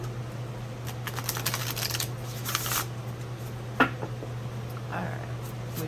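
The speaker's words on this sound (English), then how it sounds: "Give them a shuffle and see." Soft papery riffling and flicking, like cards being shuffled, in a few quick bursts over a steady low hum, with no talking.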